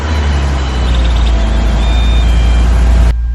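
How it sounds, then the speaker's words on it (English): A Lexus IS350 F Sport engine, no longer running bolt-on parts, starts and runs with a loud, steady low rumble that cuts off abruptly near the end, with no talking. "Let's start the car and see how it sounds."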